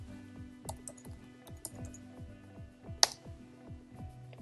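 Light keyboard clicks of someone typing a kit name into a website search box, soft and irregular over a steady low mechanical hum, with one sharper click partway through.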